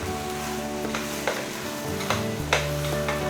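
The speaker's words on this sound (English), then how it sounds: "give that a stir" Iroquois corn soup with rehydrated beans being stirred in a pot, a steady bubbling sizzle with a few louder scrapes and clinks of the spoon, alongside a low continuous hum.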